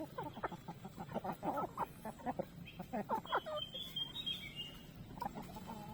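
Rhode Island Red chickens, including young roosters, cluck and chatter continuously in a backyard flock, with busy overlapping calls and a few higher chirps close by.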